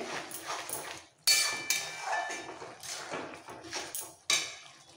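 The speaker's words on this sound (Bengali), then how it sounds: "কষাতে কষাতে খুন্তি দিয়ে একটু পেস্ট করে নিতে হবে।" A metal spatula scrapes and bangs against a pan while pav bhaji is stirred and mashed, giving sharp clanks and clinks between softer scraping, close and fairly quiet.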